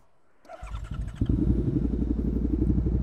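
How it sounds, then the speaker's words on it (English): Suzuki SV650X motorcycle engine turning over and settling into a loud, close, steady idle with a rapid throbbing pulse, no talk over it. "let's see how this little bike sounds."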